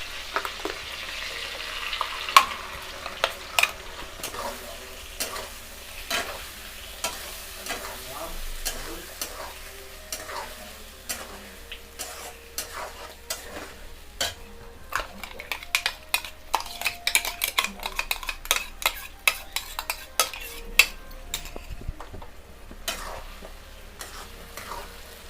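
Ground spice paste frying in hot oil for a Bengali parshe fish curry, a steady close sizzle broken by sharp clicks and scrapes of stirring that grow busier toward the end.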